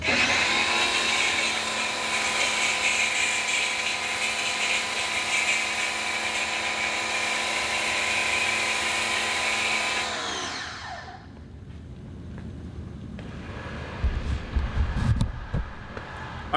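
Foam cannon spraying Adams Mega Foam car wash soap, a steady loud pressurized hiss running for about ten seconds before cutting off, followed by quieter handling noises and a few low thumps.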